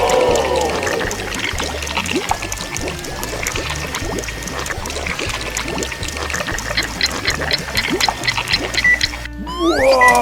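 Water pours steadily into a dry mix of sand and cement for concrete, a continuous trickling and splashing that lasts the whole stretch, fairly loud and close, ending with a brief change in the flow.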